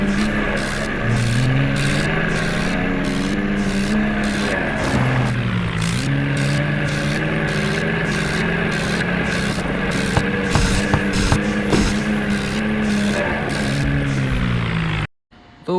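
A tractor engine strains steadily while pulling a truck stuck in mud, its loud, continuous drone rising and dipping in pitch for about fifteen seconds before cutting off briefly at the end.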